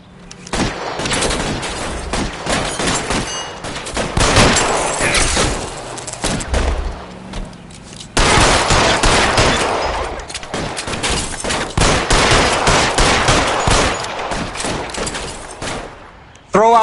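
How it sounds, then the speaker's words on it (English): Heavy bursts of gunfire in L.A. Noire, dense volleys of shots rattling almost continuously with brief lulls, loud and close, with a voice calling out orders between the bursts. "Fire a warning round."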